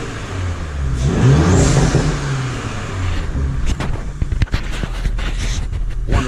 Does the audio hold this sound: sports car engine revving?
yes